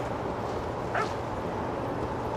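A puppy in the video game What Remains of Edith Finch gives one short yip near the middle, set against a steady low background hum.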